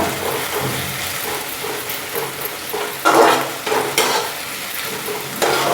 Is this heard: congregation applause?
no